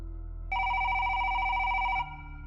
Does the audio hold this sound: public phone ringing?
yes